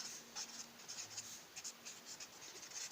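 A pen scratches out a maths equation on paper, a soft, close rasping of short strokes and brief pauses that continues steadily and quietly throughout.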